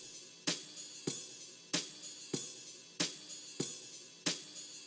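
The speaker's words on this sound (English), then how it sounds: "So what I did is add this ride loop over here" A ride cymbal loop from a boom bap beat made in FL Studio, with bright washy strikes repeating in a steady, evenly spaced rhythm, each hit ringing and decaying before the next, played alone.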